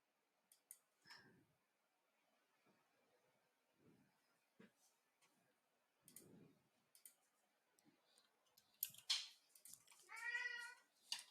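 A cat meows a few times, faint and somewhat distant, amid quiet clicks and light room noise, with a louder meow near the end.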